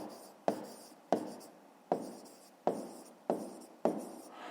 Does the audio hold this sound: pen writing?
yes